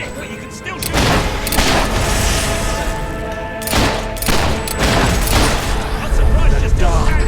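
Gunfire in the video game Fable III, a dense run of shots and booming impacts at close range, repeating throughout under a voice speaking in the foreground.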